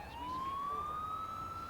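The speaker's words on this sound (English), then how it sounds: "Should use the siren more often." An ambulance siren in the paramedic simulator game Ambulance Life wails in a steady rising tone, faint and alone for a brief moment.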